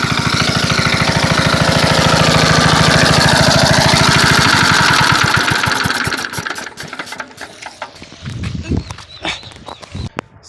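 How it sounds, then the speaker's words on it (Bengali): An engine-driven water pump machine runs loud and close with a steady chugging rumble, then is switched off and sputters to a stop, leaving footsteps and light handling noises. "তাই এখন মেশিন বন্ধ করে দেবো।"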